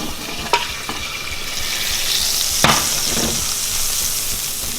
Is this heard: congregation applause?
no